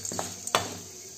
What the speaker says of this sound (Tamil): கொஞ்சம் கேஷ்யூ நட்ஸ் நல்லா வறுத்துக்கோங்க.